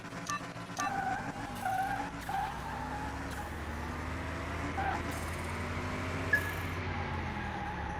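In Car Mechanic Simulator 2021, a street-tire-equipped car's tires squeal and skid under a pulled e-brake, several short screeches over a steady engine drone, fairly quiet overall.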